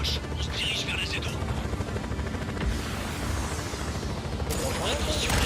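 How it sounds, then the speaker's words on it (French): A helicopter approaches in Just Cause 4, its steady rotor chop running throughout with other game sounds, while voices talk over it. "Hélicoptère en approche."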